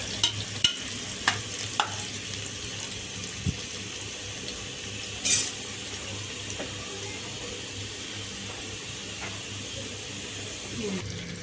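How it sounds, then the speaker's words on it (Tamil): Onions fry in a pan for biryani, making a faint sizzle beneath repeated stirring clanks and scrapes of a spoon against metal, with a few sharper knocks near the start. "இப்போ வெங்காயம் வதங்கிடுச்சு"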